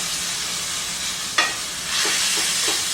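Ground beef sizzles steadily in a hot Viking skillet, a loud close hiss with a brief scrape of stirring midway before the frying swells a little louder.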